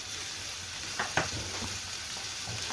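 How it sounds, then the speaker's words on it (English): Chopped wilted spinach drops into a sizzling pan of lamb and spinach curry, giving a steady frying hiss with a couple of brief louder crackles as the leaves land. "I'm adding some chopped wilted spinach"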